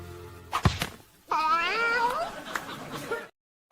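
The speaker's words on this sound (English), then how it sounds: "Why is there a cat?" A cat meows during a sports podcast recording, a drawn-out wavering yowl after a couple of thumps, fairly close and loud, with no talking over it.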